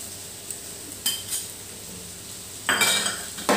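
Leftover roti noodles and tomato get mixed in a pan over high flame, giving a few sharp utensil clinks and scrapes against the pan over a faint background sizzle, with a louder scraping burst near the end.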